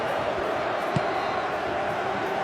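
A large stadium crowd at a World Cup football match between Qatar and Switzerland roars in a sustained, loud, distant wash of voices, with a brief sharper shout rising from the mass.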